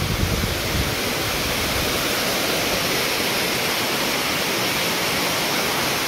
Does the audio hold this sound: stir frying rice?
no